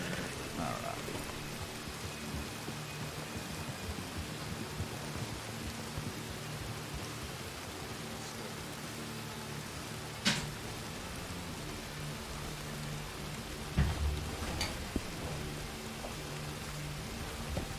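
Heavy rain pours steadily in a Red Dead role-play game, a dense continuous hiss close and loud, with a couple of sharp knocks partway through.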